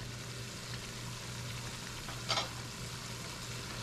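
Squash and chicken cook in a pot, giving a faint, steady sizzle with a single brief clink partway through and no talking.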